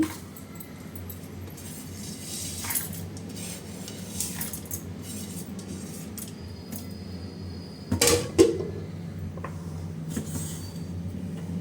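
Ginger, jaggery and tamarind drop into a metal mixer jar with clinks and scrapes of utensils, building to a cluster of sharp knocks near the end against a low, steady room hum.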